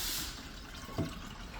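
Water running into a container during a capacity test of a Mr. Freeze Gen 3 unit, a steady rushing, splashing flow with one brief gurgle midway.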